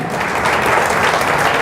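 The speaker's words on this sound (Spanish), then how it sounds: "Denle un aplauso al Señor" A church congregation claps together in a brief, steady burst of applause, loud and close, with no break in the clapping.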